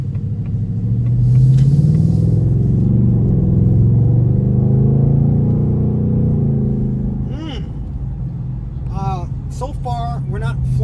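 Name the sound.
2024 Ford Mustang exhaust while driving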